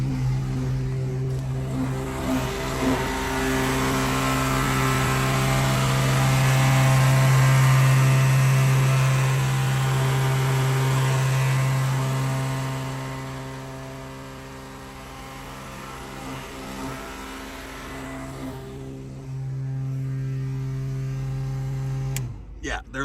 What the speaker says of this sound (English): These fans are loud.